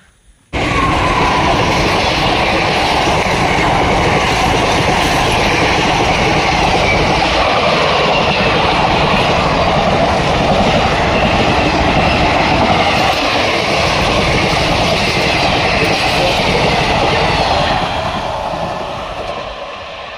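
A train passes close by on a railway track near Bahanaga, a loud, sustained rumble and rattle of wagons lasting almost twenty seconds before slowly fading.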